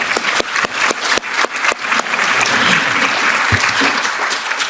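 A conference audience at a security and defence forum breaks into applause after a speech: a few sharp, separate claps at first, then a full, steady wash of clapping from a large crowd, loud and sustained.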